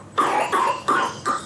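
Heitor, a young boy who has just woken up, gives four close, loud, rhythmic coughs in quick succession, with no speech.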